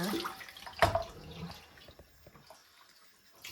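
Tap water runs over vegetables being rinsed for salad at a kitchen sink, with one sharp splash near the start and then a quieter trickle and scattered drips.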